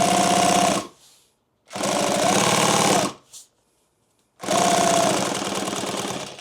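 A sewing machine stitches heavy ballistic nylon for a duffle bag, running in three loud, rapid bursts separated by short pauses.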